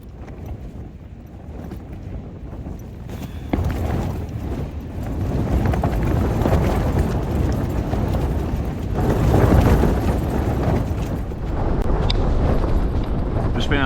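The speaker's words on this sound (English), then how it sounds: "This wind is insane." Strong wind buffets a campsite at night, a constant loud roar with heavy gusts battering the microphone and tent, swelling louder partway through and never letting up.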